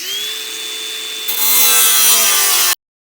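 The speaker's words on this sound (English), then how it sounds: "we're going to go ahead and cut our plates out of this old sign" A handsaw cuts plates out of an old sign, a steady rasping stroke that grows louder and brighter partway through before stopping abruptly, heard up close with no talk.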